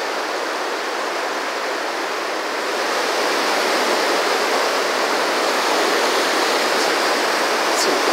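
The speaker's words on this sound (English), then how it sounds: "There's the rapids." Rapids on Henry's Fork river pour in a continuous, loud broadband rush that swells slightly partway through and holds steady at close range.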